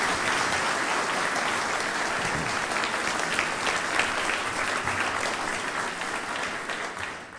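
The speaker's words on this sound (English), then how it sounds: "So let's give the Kaisers a big round of applause." An audience at a Mississippi Valley Division change of command ceremony applauds the Kaisers, a dense, even round of clapping sustained throughout at steady volume.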